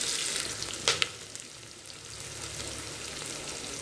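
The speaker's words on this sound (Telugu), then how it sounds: "మనం ఇప్పుడు ఆనియన్స్ కానీ కలిపేసేసుకుంటున్నాను" Onions for jackfruit biryani sizzle and crackle in a hot pan while being stirred, with a couple of sharp clinks of the spoon early on, then a steady close frying hiss with no talking.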